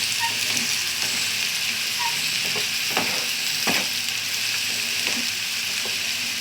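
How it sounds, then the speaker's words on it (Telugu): Turmeric and spices fry in oil in a pan, a steady close sizzle with a few soft clinks from stirring, no one talking. "బాగా వేగుతున్నాయి కదా ఇంకా ఆయిల్ ఎక్కువ కనిపిస్తుంది"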